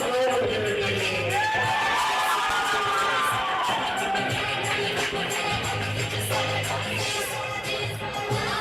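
Roller derby crowd cheering and whooping for the Quad Squad in green at a home bout, a loud sustained roar with shouts throughout and an announcer's voice over it.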